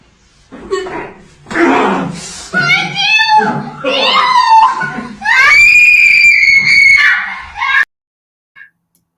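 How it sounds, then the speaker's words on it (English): A woman in a played video screams loudly, long and piercing, after a stretch of excited high-pitched voices and laughter. The scream runs several seconds, then cuts off into near silence. "her scream is so fucking loud"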